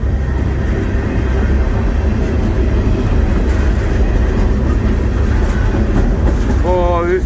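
A train rolling on rails across North Dakota, a loud continuous rumble with rhythmic wheel clatter heard from inside the car, ending with a brief rising squeal.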